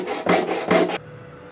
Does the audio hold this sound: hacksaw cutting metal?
yes